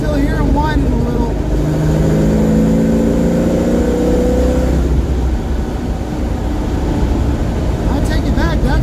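Rebuilt Ford 8.8 rear axle whining at 60 mph, a thin steady gear whine riding over loud road and engine drone inside the moving vehicle, with someone talking.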